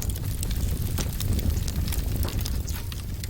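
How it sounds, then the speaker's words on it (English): Fire spreading through a destructible building in the voxel game Teardown roars as a loud, steady crackling rush with scattered sharp pops throughout. "Oh no, it's all on fire now."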